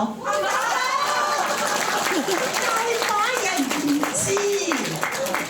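An audience claps together at a celebratory concert gathering, a dense, steady patter of applause running under a voice speaking over it throughout.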